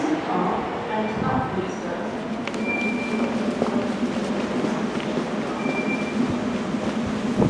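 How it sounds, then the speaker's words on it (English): Train rumbling steadily at a London railway station, a continuous low drone with faint clanks and brief tonal squeals, heard at moderate distance throughout without any talk. "That's my train over there."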